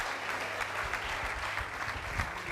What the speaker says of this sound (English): You should clap for them now.